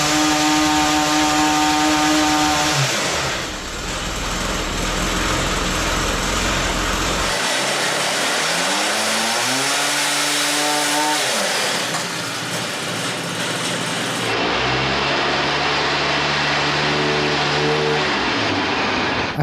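A homemade go-kart with a 50cc lawnmower engine on a test run, a buzzing small engine revving up and down in several bursts with pauses between, loud and close.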